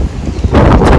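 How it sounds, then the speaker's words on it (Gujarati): Strong wind gusts through a house's backyard under a dark, stormy sky. It comes as a loud, close rush of blustery noise, swelling about halfway through. "જબરજસ્ત પવન છે આખી રાત"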